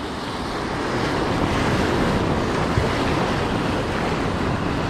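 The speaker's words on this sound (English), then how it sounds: "see on the horizon now how big the waves are" Big sea waves and swell wash onto the shore at night, a steady loud roar of surf with wind noise on the microphone, with no talk.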